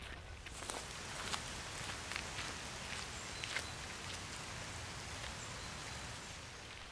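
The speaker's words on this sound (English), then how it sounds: "rain quite heavily now" Heavy rain falls in a forest as a steady, dense hiss, with scattered louder drops and faint rustling over a constant wash, fairly quiet and with no voices.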